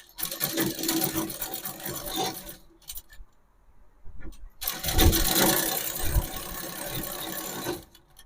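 Sewing machine stitching palazzo pants runs in two loud bursts of steady whirring, broken by a near-silent pause of about two seconds in the middle.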